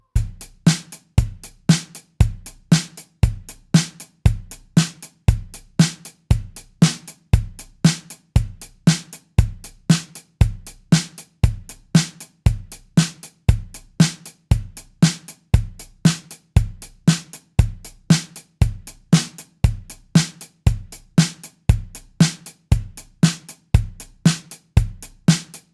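A quick 1980s pop drum pattern, programmed in the GarageBand beat sequencer, loops steadily with crisp, evenly spaced kick, snare and hi-hat hits, loud and alone without any voice.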